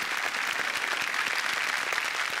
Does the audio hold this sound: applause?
yes